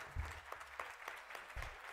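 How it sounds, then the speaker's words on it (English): Audience applause at a tertiary institution debating challenge, a brief spell of scattered, fairly faint claps with a few low thumps, heard from across a hall. "Round of applause"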